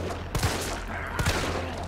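Two sharp gunshots about a second apart in the video game Resident Evil 3 Remake, sounding loud and close over a steady background rumble.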